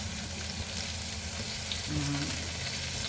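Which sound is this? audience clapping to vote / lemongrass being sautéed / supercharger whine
lemongrass being sautéed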